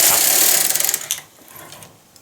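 Knitting machine carriage drawn across a row while knitting a vest bodice, a bright close mechanical whirr with quick clicking ratchets, slowing and fading into a quieter rattle near the end.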